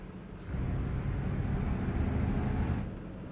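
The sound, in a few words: truck reversing in Euro Truck Simulator 2 video game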